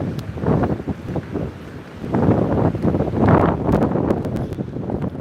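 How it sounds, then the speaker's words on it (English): Outdoor wind buffeting a microphone during a Pokémon GO community outing, a loud, continuous low rumble that surges and gusts unevenly throughout with no speech over it. "That wind is starting to pick up."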